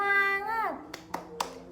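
A drawn-out voice ends, then three sharp, close hand claps follow in a quick rhythm as children do a 'tepuk semangat' cheer clap in a classroom.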